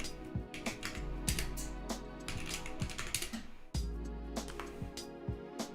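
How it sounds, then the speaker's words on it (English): An AxiDraw pen plotter whose motors have just been enabled gives a faint, steady mechanical hum, mixed with close ticking and clicking sounds throughout, with no talking. "So I can hear that the AxiDraw is turned on, woken up."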